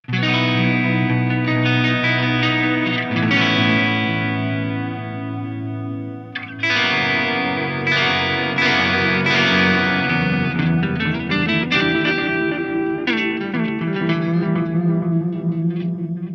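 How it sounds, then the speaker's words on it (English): An electric guitar plays a lead line through an Eventide H9 tape delay effect, drenched in echo, each note trailing soft repeats that smear into a warm wash, loud and with no talking. "this is an unreal tape delay sound for lead stuff"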